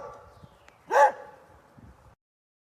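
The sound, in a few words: dog barking and whimpering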